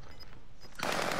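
Gunfire in the video game Fortnite during a duos match: quiet game ambience, then a sudden dense burst of loud, rapid shots that fills the last half second.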